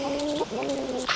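Backyard hens give short, nasal clucks and murmuring calls close by, two or three brief vocal phrases in quick succession.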